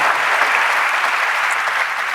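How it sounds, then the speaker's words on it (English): A conference audience at Talent Connect 2019 applauds steadily, a broad even wash of clapping from a large crowd with no talk on top. "How about another round of applause?"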